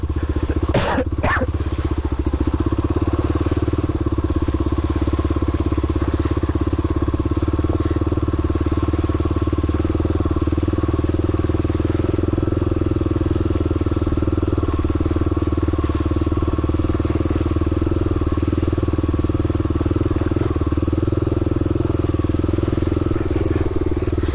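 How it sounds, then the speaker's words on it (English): A motorcycle rides steadily through puddles with a constant engine drone and a few brief clatters near the start. No speech is heard. "riding through more puddles"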